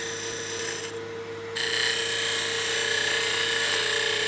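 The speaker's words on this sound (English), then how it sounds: "Just using the spindle roughing gouge to get the majority of that bulk out of the way." A spindle roughing gouge cuts wood on a lathe while a crank-top pepper mill blank is turned, making a steady, close, continuous rasping hiss. It briefly softens partway through, then returns louder and sustained.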